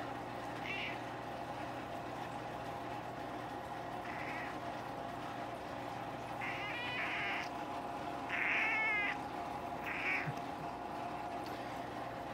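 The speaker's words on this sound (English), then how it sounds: "Belly scratching the cat." A cat meows repeatedly while getting its belly scratched: short complaining yowls and a few drawn-out caterwauls, close and fairly clear over a low steady hum in a quiet room.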